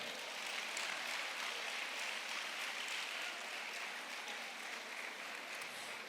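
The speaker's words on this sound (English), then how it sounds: "Could we put a round of applause, our hands together, for Honorable Justice Ukeje?" Steady audience applause for Honorable Justice Ukeje at a 2019 annual conference panel session, a dense even roar of many hands clapping throughout, fairly distant and uniform with no talk.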